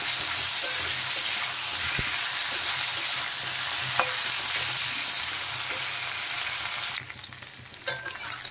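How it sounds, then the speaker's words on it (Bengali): Potato and eggplant pieces frying together in oil for a mrigal fish curry, a loud, continuous sizzle with occasional spatula knocks as they are stirred, settling slightly quieter toward the end. "আমি একসাথেই ভেজে নিচ্ছি একবারে। নেড়ে চেড়ে ভালো করে একটু ভেজে নেব।"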